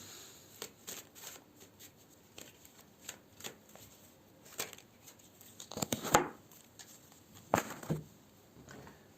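Fortune-telling cards are shuffled in several quick riffling bursts, with crisp flutters and slaps that grow louder near the end and stand alone without talk.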